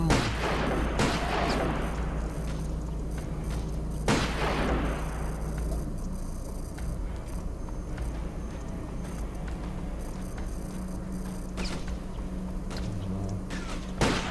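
Gunfire in the video game Code of Honor, with a few sharp loud shots early on over a steady rumbling background, then quieter scattered cracks later.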